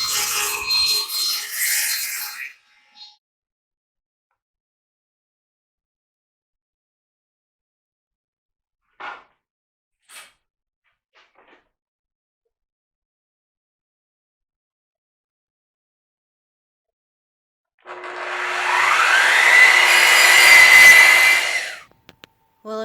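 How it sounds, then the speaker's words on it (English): A saw cuts quarter-inch plywood panels for the base and top of an oak box, heard in two short, loud bursts of cutting separated by a long stretch of near silence. "Now I'm cutting the 1/4 inch plywood to use as the base and the top for the box."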